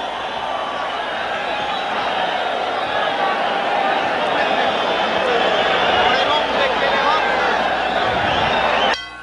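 A packed arena crowd roars steadily at a 1999 WBC super bantamweight title boxing match, a dense, loud wash of cheering and shouting that holds throughout and cuts off abruptly at the end.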